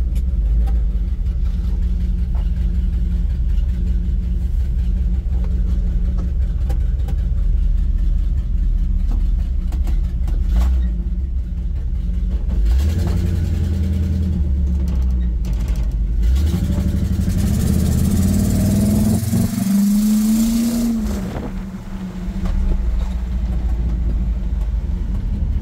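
A 1961 GMC C1500 pickup's engine idles with a steady low rumble heard from inside the cab, then revs up and eases back down later on, loud and close throughout.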